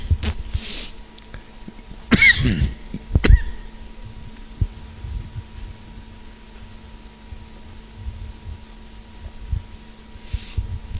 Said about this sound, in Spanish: Estoy luchando con esta tos.